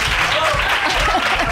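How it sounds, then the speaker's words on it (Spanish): Spontaneous applause from a studio audience during a Spanish comedy radio show, a brief dense patter of clapping with voices mixed in. "Qué maravilla de aplausos espontáneos"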